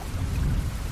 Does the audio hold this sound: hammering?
no